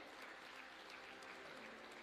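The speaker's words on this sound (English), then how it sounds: "A round of applause for all the contributors today." Audience applause fills a lecture hall at an Africa Day lecture in Dar es Salaam, Tanzania: dense, even clapping from a large crowd, faint and continuous throughout.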